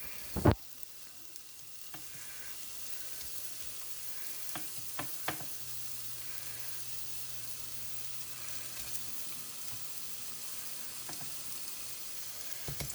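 Food pieces drop into a pot of oil preheated to medium heat, then fry with a steady, quiet sizzle and occasional crackles and pops, with no talking.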